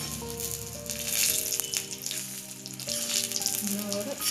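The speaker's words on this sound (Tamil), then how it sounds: "நல்லா ஃப்ரை ஆகிட்டுருக்குது." Peanut-stuffed capsicum fries in a pan with a steady, close sizzle and crackle, heard under background music.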